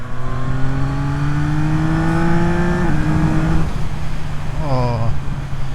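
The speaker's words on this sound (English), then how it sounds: "It's a bike that just loves to be revved" A 2024 Yamaha MT-09 triple-cylinder motorcycle engine revs steadily higher, holds, then drops with a quick gear change and a brief second rev burst near the end.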